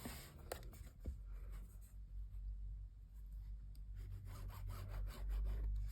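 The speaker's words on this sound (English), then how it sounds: "adding in the lines as stitching guide to show where I'm going to be stitching" A marker or pen scratching stitching guide lines onto quilt fabric for a sampler quilt block, with faint, close rubbing strokes in short bursts and quiet pauses between them.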